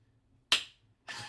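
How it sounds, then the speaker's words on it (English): A single slow hand clap lands sharply, followed a half-second later by a softer second smack or rustle, in an otherwise quiet room. "a very sad clap for a very big mistake"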